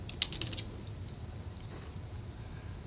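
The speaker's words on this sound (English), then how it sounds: "you can type in whatever your major is" Keys on a computer keyboard click in a quick, faint burst at the start as a major is typed into a college catalog search, followed by sparser light taps over quiet room hum.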